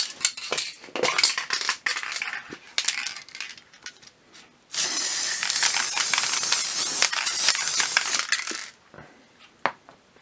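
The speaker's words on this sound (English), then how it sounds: "Well, now the PVA glue's dried, we're going to give it a spray over with this." An aerosol can of spray sealant sprays a continuous hissing coat over a decoupage comic-book binder for about four seconds, preceded by handling clatter and rattling and followed by a few light knocks.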